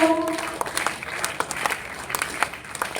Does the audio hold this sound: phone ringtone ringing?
no